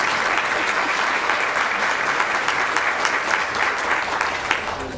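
A school board meeting audience applauds students, parents and advisors with dense, sustained clapping close by and at full volume for the whole stretch.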